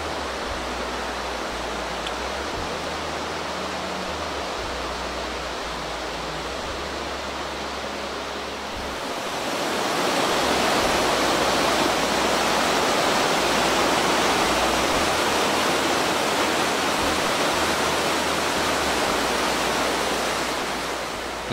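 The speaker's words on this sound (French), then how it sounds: "on revient à la belle petite cascade vue depuis le balcon du troisième étage" Small waterfall near the Rhine baths in Mulhouse, heard from a third-floor balcony, a steady broadband rush of falling water that swells louder partway through and then holds constant, with no voices.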